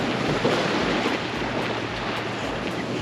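Ocean waves washing onto the beach at Barrenjoey near Sydney, a constant broadband roar of surf mixed with wind buffeting the microphone, with no talk.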